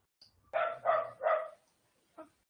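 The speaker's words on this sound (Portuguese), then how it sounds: "tem um cachorrinho na volta" A small dog barks three times in quick succession, fairly close, followed by a brief quieter yelp after a pause, with no talking over it; heard around goats in an animal behaviour setting.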